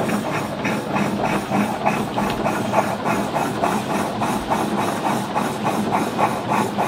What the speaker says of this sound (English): And it's turning over a lot nicer now.